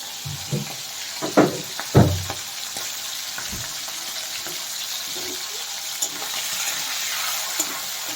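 Prawns fry in hot oil with a steady, soft sizzling hiss, punctuated by a few louder pops and clatters near the start.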